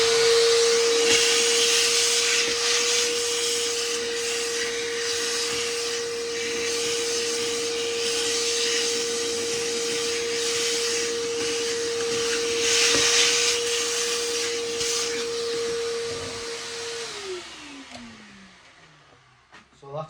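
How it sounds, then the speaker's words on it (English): A vacuum cleaner runs loudly and steadily on a 2014 Audi A3 air filter housing, with a constant motor whine, then winds down as it switches off near the end. "So we'll just quickly do the vacuum."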